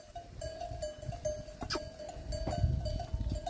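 A large flock of about 1000 sheep at a Romanian sheepfold, with a steady tinkling bell tone and scattered bleats over low rustle and shuffling, fairly close and continuous.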